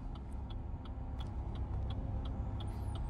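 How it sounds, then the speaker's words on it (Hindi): A car creeping slowly in reverse with the clutch only partly released: a steady low engine rumble close by, joined by faint ticking and a few light clicks, with no one speaking. "कितने प्यार से गाड़ी आपकी चल रही है"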